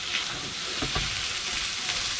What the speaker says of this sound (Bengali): এখন জাস্ট ভালো করে আবারও মিক্স করে নিব।